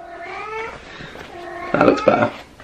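A house cat meows close by, a few drawn-out tonal meows followed by louder, rougher calls, heard alone without talk.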